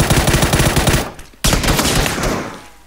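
Rapid automatic gunfire in the video game PUBG, loud and close, with a sustained burst that cuts off briefly and then resumes in fast repeated shots.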